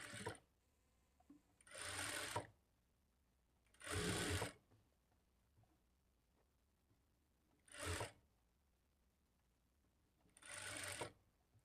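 An electric sewing machine stitches a small frill on the back of a blouse, running in four short bursts of rapid, buzzing stitching with quiet pauses between them.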